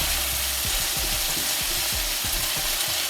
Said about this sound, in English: And then we're just gonna stir here, stir fry.